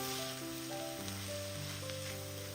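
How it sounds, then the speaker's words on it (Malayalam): Spice powder is stirred in a hot pan, giving a soft, steady frying sizzle with faint scraping under a background of sustained musical tones. "ഇനി ഒന്ന് ഇളക്കി കൊടുക്കാം. പൊടിയുടെ ഒരു പച്ചമണമൊക്കെ ഒന്ന് മാറട്ടെ."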